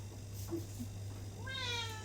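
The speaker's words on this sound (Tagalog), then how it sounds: "Meow." A cat gives one clear, rising-and-falling meow close by near the end, over a steady low hum and faint background sounds.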